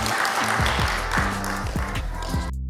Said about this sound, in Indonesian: DPR sontak tepuk tangan